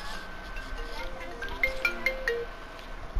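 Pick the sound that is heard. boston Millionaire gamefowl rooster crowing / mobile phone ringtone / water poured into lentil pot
mobile phone ringtone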